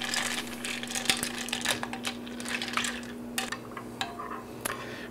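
Chocolate melting in a glass bowl over a double boiler is stirred, a utensil repeatedly clinking and scraping against the glass in an irregular rhythm, close and moderately loud over a steady low hum.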